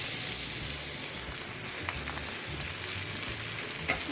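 Dried Bombay duck fish, dusted with rice flour, fry on a hot griddle with a steady, even sizzle and crackle, close by and with no voices.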